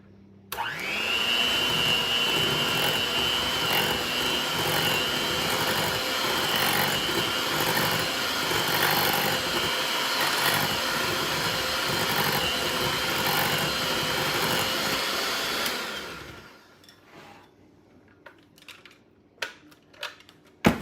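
An electric mixer whirs loudly and steadily while blending pimento cheese, a continuous motor drone with rhythmic fluctuations lasting about fifteen seconds before cutting off, followed by quiet clinks and handling sounds.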